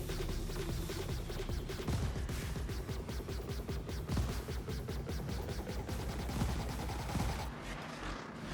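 Rapid bursts of ship cannon fire pound a Drake Buccaneer in a Star Citizen space dogfight, dense overlapping shots hammering steadily and loudly throughout with no pauses.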